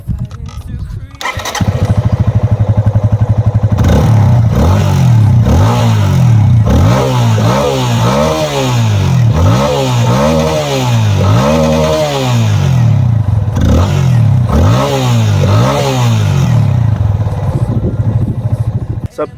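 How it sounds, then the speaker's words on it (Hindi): A Yamaha FZ25 motorcycle engine starts with a clatter and then revs again and again in quick surging exhaust bursts over a loud, throbbing idle. "आप आराम से आप समझेंगे इसका एग्जॉस्ट नोट"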